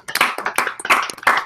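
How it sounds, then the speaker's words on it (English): Several people clap for kids who are headed to a championship. The applause is a brief burst of quick, uneven hand claps, close and fairly loud, with no talking over it. "let's clap for the kids"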